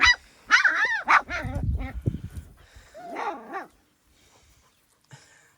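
Several loud, close barks and yelps from young dogs in quick bursts, then a pause and a last softer bark, with faint sounds trailing off.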